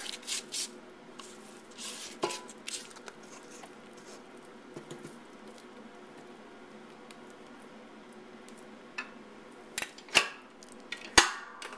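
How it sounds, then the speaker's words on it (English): A spatula scrapes the sides of a mixing bowl of Italian cream cake batter in a home kitchen, giving soft intermittent rubs and a few sharper clinks against a quiet background. "I'm going to scrape the sides of my pan or my bowl down"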